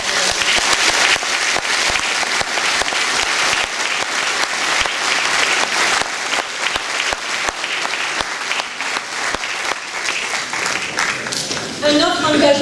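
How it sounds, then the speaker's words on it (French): Audience at a mayor's New Year address in Hagetmau applauding warmly; dense, sustained clapping from a large crowd across the whole stretch, with some voices mixed in and a few louder claps near the end. "Je vous demande, s'il vous plaît, de bien pouvoir les applaudir."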